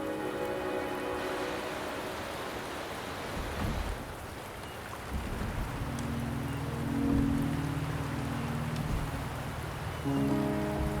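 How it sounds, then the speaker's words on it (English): Steady rain falling in the video game Wuthering Waves, a constant hiss of drops with faint tonal music layered beneath, no voices. "The rain is subsiding, and the sky will soon clear."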